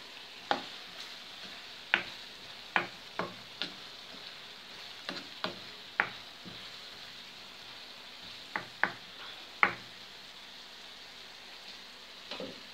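Sarmale stuffing cooking in a pot gives a soft, steady sizzle, punctuated by a dozen or so sharp spoon clacks against the pot as it is stirred at irregular intervals.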